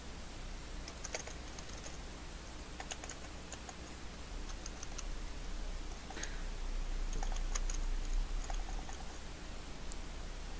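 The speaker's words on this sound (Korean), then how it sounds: "키보드 지금 치고 있는 사람 누구?" Computer keyboard typing indoors, quick irregular bursts of light key clicks spread across the stretch over a steady low hum, no voices.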